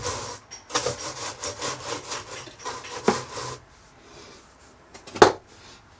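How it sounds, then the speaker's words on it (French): A brush scrubs into the small gaps of the hinges on a Hymer MLT-580 motorhome, a rapid run of rough rubbing strokes for about three seconds. A quieter pause follows, then one sharp knock. "Brosse pour aller dans les petits interstices des charnières."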